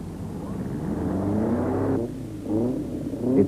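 Rally car engine revving during the 1985 Drakensberg 400 rally, a steady loud drone that drops away near the two-second mark, then surges again with a rising rev at the end.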